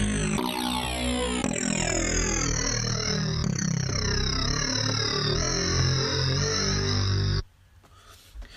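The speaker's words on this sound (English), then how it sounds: "So the bass line I have added is this real dirty," Dirty, distorted 80s horror-style bass line playing in a hip hop beat, dense and loud for about seven seconds before cutting off abruptly to near silence.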